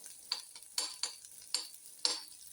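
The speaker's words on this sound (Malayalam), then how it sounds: "ഉള്ളി ഒന്ന് മൂത്ത് വരട്ടെ." Onions frying in a pan give a faint sizzle broken by several sharp scraping stirs of a spoon or spatula at irregular intervals.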